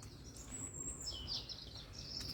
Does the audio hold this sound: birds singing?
yes